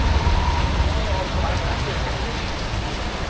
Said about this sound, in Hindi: ओहो, बारिश जो है बड़ी तगड़ी है.